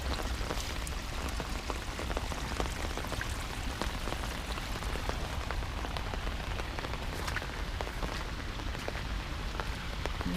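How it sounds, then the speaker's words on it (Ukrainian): Heavy rain pattering on surfaces beside Blue Lake in Kyiv, a dense continuous hiss of drops with water rushing beneath, steady and close with no talking. "Тут шумить вода."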